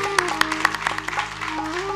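Applause at a Punjabi poetry conference in Lahore, a brief patter of claps under a sustained tonal hum and a voice.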